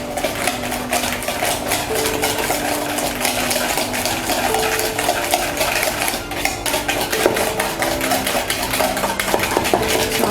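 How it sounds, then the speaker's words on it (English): Egg being mixed into a butter and sugar mixture for cassava chocolate chip cookies, a continuous rapid clatter of a utensil against a bowl, close and loud throughout. "So I'll add my egg into the butter and sugar mixture."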